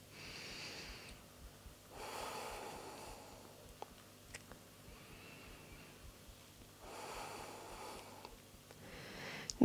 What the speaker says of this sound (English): start breathing in and out through the nose if you're not already.